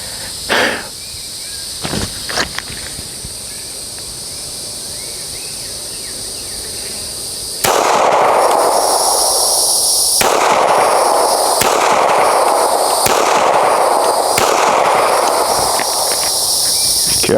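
Gunshots at an outdoor shooting range, a few sharp isolated cracks early then a louder series of spaced shots against constant insect buzzing, no talk.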